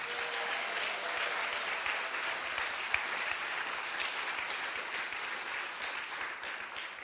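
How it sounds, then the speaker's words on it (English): A live audience gives steady, dense applause for the performers called the Brotherhood of the Wordless, an even wash of many hands clapping that holds at a constant level throughout, with no speech over it. "Can you give another round of applause to the Brotherhood of the Wordless?"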